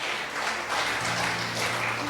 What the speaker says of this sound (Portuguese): Você pode aplaudir a Ele então,